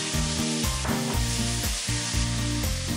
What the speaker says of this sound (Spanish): escuchemos que empieza como a sonar ese sonidito de fritura